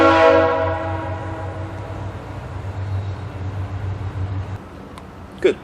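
A train passes by, its low rumble and strong horn-like harmonic tones loud at first, then fading over several seconds before a brief sharp knock near the end.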